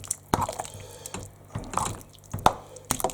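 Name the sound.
stirring a pot of food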